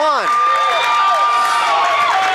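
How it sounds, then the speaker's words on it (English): A home crowd at a boys' high school basketball game, Hartington-Newcastle against Plainview, rising into loud, sustained cheering and shouting that fills the gym without a break. "And now the Plainview crowd comes to life."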